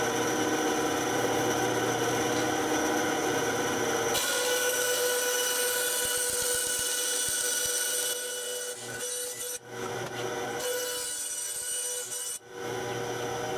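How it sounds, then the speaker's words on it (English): A bandsaw cuts through small wood pieces with a continuous close whine and rasp, the pitch and loudness shifting as the blade works the stock, with brief dips between passes near the end. "I'm going to be using a bandsaw for that"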